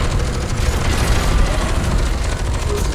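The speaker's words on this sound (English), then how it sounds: "Have some rockets there, mate." Rocket explosions in the shooter game F.E.A.R. 2 come as a dense, continuous roar of booms and bursts, loud and close, with no clear gaps between blasts.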